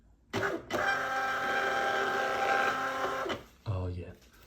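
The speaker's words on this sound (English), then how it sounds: "have a tiny printer on the desk, which makes the label come out" A tiny desktop label printer runs steadily for about three seconds as a shipping label feeds out, a close mechanical whir with a faint hum, then stops briefly before a short second burst.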